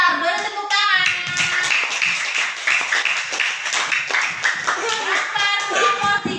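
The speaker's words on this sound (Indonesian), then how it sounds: "Beri tepuk tangan." Children clap in a classroom during a lesson, a quick burst of small hands slapping together close by, mixed with a few young voices talking over it.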